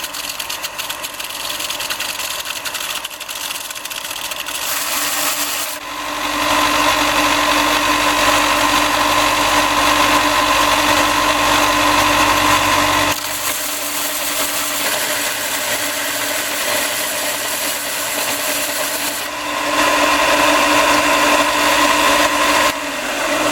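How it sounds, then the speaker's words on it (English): A power sander works on the underside of a carved stone scarab, a loud continuous whirring drone that cuts out briefly and restarts twice, with no talk over it. "So first off, I sanded down the bottom."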